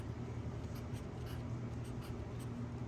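A pen or pencil scratches across paper while a weight of flour is noted down, a close, steady scribbling with faint hum beneath and no voices.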